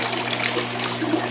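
Guppies and water poured from a bag into a snapping turtle pond, giving a short, steady splashing trickle close by with a constant low hum beneath it.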